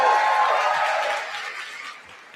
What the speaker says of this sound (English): So just give her a cheer on her way out the door